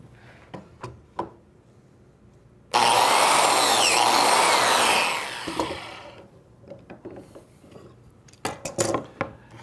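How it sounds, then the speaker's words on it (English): A power tool cuts a slot into the end of a wooden board clamped to a bench while making a woodworking joint: a loud, dense burst of about two and a half seconds that tails off, with scattered knocks and handling clatter before and after. "Take this one, clamp it to the bench, and make the slot in the end."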